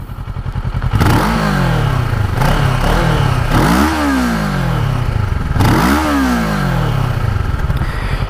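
Kawasaki Ninja 650 from 2016 with its engine running loud and close, a steady idle broken by several sharp throttle blips whose pitch rises and falls, with no voices over it.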